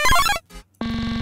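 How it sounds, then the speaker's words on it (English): A glitchy electronic sample made with Fruity Granulizer for a tearout track: a short burst of stuttering, pitched grains, a brief near-silent gap, then a buzzy, rapidly repeating tone, loud and alone. "which is the little glitchy bit that sounds like this."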